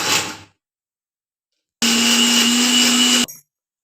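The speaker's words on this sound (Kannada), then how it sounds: "ಇದನ್ನು ತಣ್ಣಗೆ ಮಾಡಿಕೊಂಡು ಮಿಕ್ಸಿಲಿ ಹಾಕಿ ಗ್ರೈಂಡ್ ಮಾಡ್ಕೊಳ್ಳೋಣ" A mixer grinder blends boiled carrots with milk in a short, loud, steady whirring burst of about a second and a half, preceded by a brief earlier spin that cuts off.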